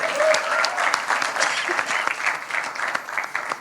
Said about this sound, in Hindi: ये तो खुश होने की बात है, ताली बजाओ अजय देवगन के लिए